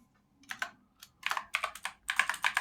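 Clattering bursts of typing on a computer keyboard, quick uneven clusters of close key presses separated by short pauses, with no talking.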